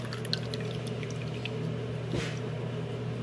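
Warm bacon grease is poured slowly into a catching container, making a steady, close liquid trickle with a brief splashy swell near the end.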